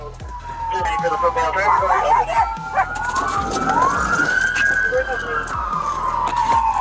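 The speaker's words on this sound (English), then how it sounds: "A police dog was released, bringing him down with a bite to his ear and shoulder." A police dog barks during an arrest, its barks partly masked by a wailing police siren that sweeps up and down, while people shout over the scene.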